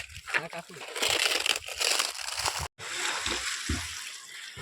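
People swim in a village well, and the water sloshes and splashes in bursts close by. Voices talk and shout over the splashing, with one brief silent break.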